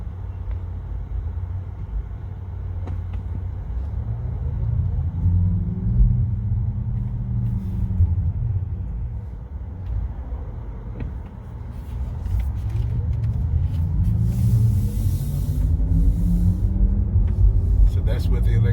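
A 2020 Porsche Taycan Turbo drives with its artificial electric motor sound switched on, a steady low hum with rising and falling sweeps over road rumble, while people talk inside the car.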